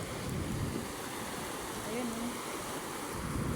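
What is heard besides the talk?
ocean waves at the beach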